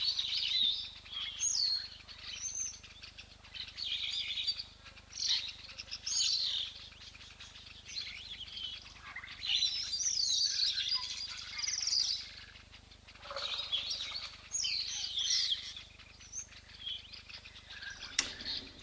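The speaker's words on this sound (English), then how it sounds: "Waterholes are a great way to sit and enjoy and see these little secretive birds." Small secretive birds chirp and tweet at an African waterhole, a busy layered chorus of bright, high calls carrying on steadily throughout, close and fairly loud, with no voices.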